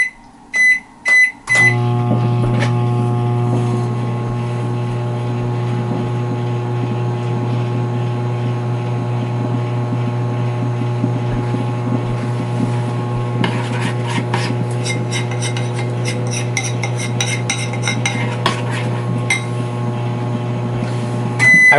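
A microwave oven running on timed cook: a few keypad beeps, then a steady, loud hum with a low motor drone that runs on without a break, a soft rattle starting partway through.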